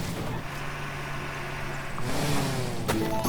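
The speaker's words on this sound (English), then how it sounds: "So let's jump back in our tractor." A steady mid-pitched tractor engine from the farming video game Farm Together, driving and rising slightly in intensity toward the end, heard alone at moderate volume.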